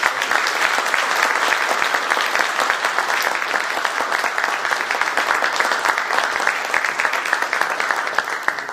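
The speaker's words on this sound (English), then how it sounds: "I hope you'll join me in another round of applause for them for the excellent installation" A large audience applauds a conductor and orchestra at a conference closing, sustained dense clapping from many hands filling the hall, steady and loud throughout.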